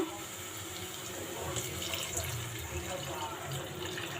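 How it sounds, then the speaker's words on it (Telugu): Water is poured steadily into a pan for a few seconds, a continuous splashing pour with a faint background hum. "ఇప్పుడు వాటర్ అనేది వేసుకుందాము"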